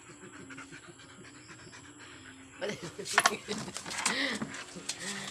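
A dog pants in short, quick breaths close by, growing louder and busier halfway through, with some faint rustling around it.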